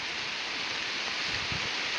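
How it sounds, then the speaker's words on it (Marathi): Heavy unseasonal rain pours down across open fields in a dense, even hiss, loud and continuous with no breaks. "लय जोरात आला ना पाऊस"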